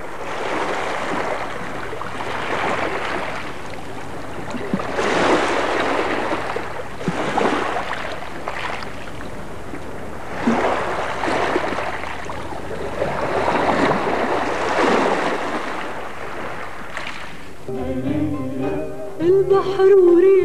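Sea waves and wind along the Alexandria coast, with surf swelling and washing in repeated slow surges under a steady windy hiss, followed near the end by music entering.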